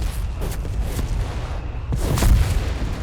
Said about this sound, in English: Got the artillery inbound here against the machine gun position.